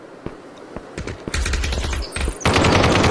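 Gunfire in a VR shooter game, Aim XR: scattered single shots give way to dense rapid automatic bursts, loud and close, with no talk.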